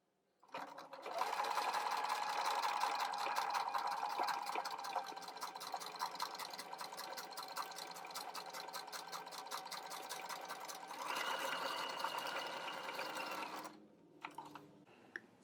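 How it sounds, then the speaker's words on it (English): A sewing machine runs steadily, topstitching a denim jacket along a tape guide, its close, continuous rapid stitching humming for most of the stretch before stopping near the end. "I can just go ahead and stitch right down using the tape to guide from the front side as I sew"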